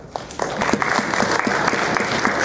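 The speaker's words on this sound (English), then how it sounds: "Please give your applause towards all 6 great debaters." Audience applause at a model debate seminar, steady dense clapping from a crowd that fills the whole stretch at an even, fairly loud level.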